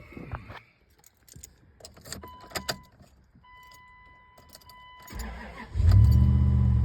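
A 2000 Dodge Dakota V8 cranks and fires up after quiet shuffling and key jingles, then settles into a loud, steady idle close by.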